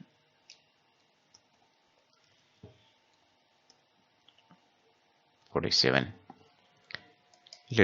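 Sharp, isolated computer mouse clicks tick at irregular intervals against near silence, with a brief burst of speech near the end.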